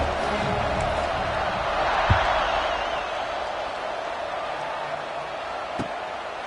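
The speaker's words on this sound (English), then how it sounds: "this crowd is feeling themselves after that last drive" Football stadium crowd roaring steadily after a touchdown drive, a dense wash of cheering that holds throughout with a couple of brief sharp cracks, while a commentator talks over it as the kickoff unit lines up.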